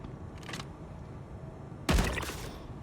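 A single loud gunshot in Star Citizen cracks out near the end, preceded by a fainter short burst, against quiet background hum.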